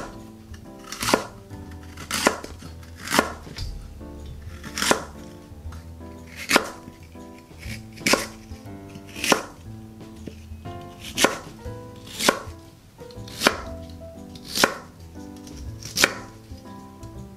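A knife chops peeled lotus root into thin slices on a cutting board, each cut a sharp solid thunk. The cuts land about once a second in a steady rhythm, close and clear, with no talking.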